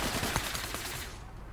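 Rapid automatic gunfire from the ATAC Watchman weapon in the APB Reloaded video game, a dense burst of shots running steadily for about a second before cutting off.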